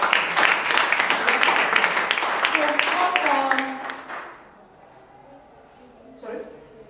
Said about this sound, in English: a round of applause for all those who have done that